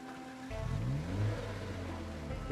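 Car engine starting up and then running, with a low rumble and a rising tonal whine that settles into a steady idle, fairly quiet and with no voices.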